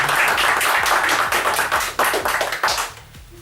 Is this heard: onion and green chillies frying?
no